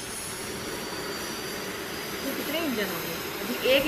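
A Bayraktar KIZILELMA unmanned combat jet runs its engine during a ground integration test, a steady loud turbine roar and whine that rises slightly toward the end, with no speech over it.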